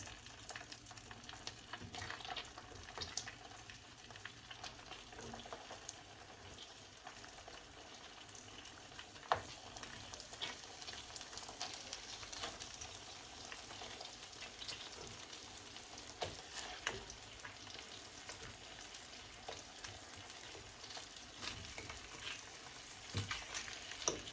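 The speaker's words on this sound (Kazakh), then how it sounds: "Тауық еттерімізді сары майда қызыл болғанша екі жағын қуырып аламыз." Chicken pieces frying in butter in a pan give a faint, steady, low crackling sizzle throughout, with occasional soft clicks of handling and no voices.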